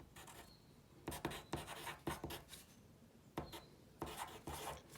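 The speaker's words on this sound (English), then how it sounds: "So, I'm going to draw a rectangle, since we know the pool is a rectangle." A pen or marker drawing a rectangle by hand on a surface, with several short scratchy strokes in bursts separated by brief pauses, close and quiet, no speech.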